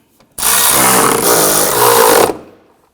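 A power tool whirs steadily for about two seconds and then stops, tightening bolts with a 13mm socket while a windshield washer reservoir is replaced on a 2015-2020 Ford F-150.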